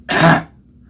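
A single harsh, close cough after eating hot sauce on crackers, sharp and loud, lasting under half a second before fading to quiet.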